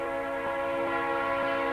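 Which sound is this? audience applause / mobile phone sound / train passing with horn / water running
train passing with horn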